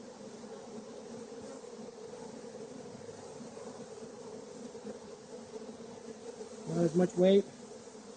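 Honey bees droning steadily around an opened hive, a continuous close buzz that swells louder near the end, with a brief spoken phrase over it.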